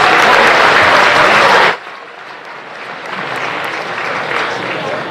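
A banquet audience applauds a retired longtime Morgan Township teacher at a county boys basketball tournament banquet, loud dense clapping that stops abruptly, followed by quieter room murmur.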